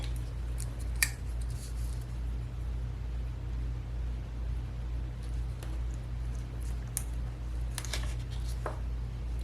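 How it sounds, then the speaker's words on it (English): Scissors snip through a planner page in a home setting, a few sharp isolated cuts spaced over steady low hum, close and fairly quiet, no talking. "And then I'll just cut that."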